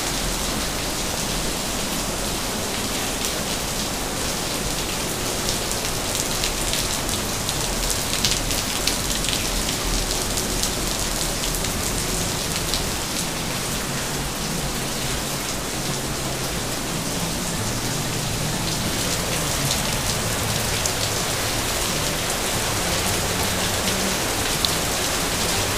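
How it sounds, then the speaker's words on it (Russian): Heavy downpour beside a roadside where a white Honda motorbike is parked, a dense, steady roar of rain pounding surfaces that stays loud and unbroken throughout with no voices. "сейчас я вам покажу, какой ливень идет."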